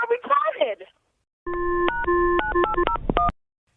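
Telephone keypad dialing: a string of crisp, steady DTMF tone pairs punched out in quick, uneven succession during a call transfer, loud and clear right after a brief burst of talking.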